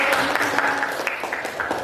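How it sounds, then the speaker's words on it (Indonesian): Applause from a classroom group for a student team, a brief burst of scattered clapping with a few sharp individual claps standing out, loud and close throughout. "Tepuk tangan untuk kelompok Nurbaiti"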